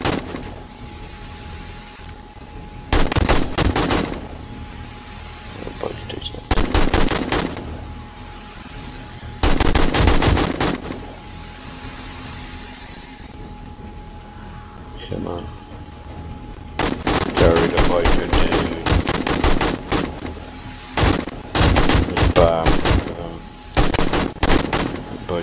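Gunfire during horde night in the zombie survival game 7 Days to Die: loud bursts of automatic fire in several long volleys separated by quieter gaps, close and dominant, with brief game noises between bursts.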